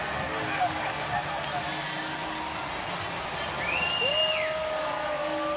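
A sold-out baseball crowd at a Phillies home game roars steadily after a walk-off win in extra innings, a dense wash of cheering with a broadcaster talking over it.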